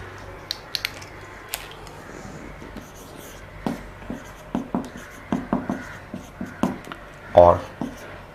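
Marker or chalk strokes on a board during an organic chemistry lecture on aromatic amines, a series of short taps and scratches in an irregular rhythm, close by, with a teacher speaking over parts of it.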